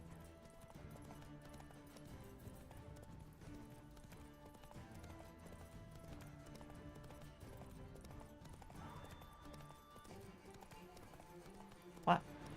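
Roach, a horse in The Witcher 3, clip-clops at a gallop with a steady rhythmic beat of hooves over game music, under continuous talk, with a sharp louder knock near the end.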